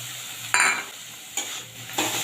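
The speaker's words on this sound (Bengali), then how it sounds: "এবার ভালো করে কষিয়ে নেবো মশলাটা" Spice masala with chopped tomato, green chillies, salt and Kashmiri chilli powder sizzles in a pan under a steady frying hiss, with three distinct scraping stirs at even intervals.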